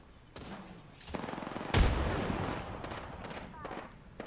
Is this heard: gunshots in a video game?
yes